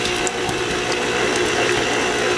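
A stand mixer locked in position whirs on medium speed while blending cream cheese frosting, giving a loud, steady mechanical hum with faint clicking and rattling throughout.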